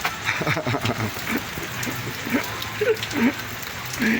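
Heavy rain pours steadily during a fishing outing near Zamboanga City, a dense hiss filling the scene while scattered chirps and faint voices rise through it.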